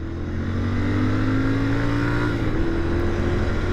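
A 2021 Royal Enfield Continental GT 650 motorcycle engine revs steadily and loudly up close, its drone climbing gradually in pitch and then holding high as it spins freely toward the red line.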